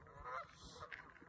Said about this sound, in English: you can see those geese down there